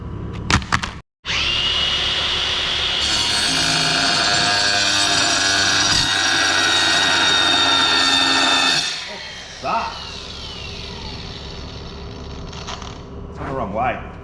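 Air grinder fitted with a saw blade cutting metal, a loud steady high-pitched whine lasting several seconds after a brief start, then dropping off as the tool winds down.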